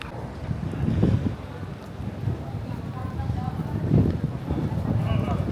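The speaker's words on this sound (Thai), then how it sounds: "โอ้ให้ลมเย็นมาก" Gusty wind buffets the microphone outdoors at the Wat Phra Kaew temple grounds in Bangkok, a rumbling low roar that swells and eases in bursts, loudest around the first and fourth seconds, with a voice faintly present beneath.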